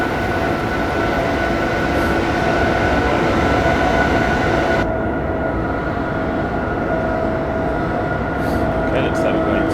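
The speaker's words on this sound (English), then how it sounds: "This is actually a very long train that I'm driving as well," A very long train runs in the Train Sim 2014 simulator on the Three Country Corner route, a steady loud rumble with sustained mechanical hums and a sudden shift in tone midway.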